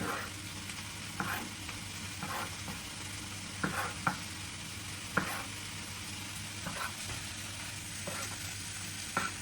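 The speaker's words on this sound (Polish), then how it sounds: "I te pomidorki jak pokroję od razu daję na patelnię." Halved cherry tomatoes frying in a pan, giving a steady close sizzle with recurring sharper crackles and stirring clatters every second or so, and no voices.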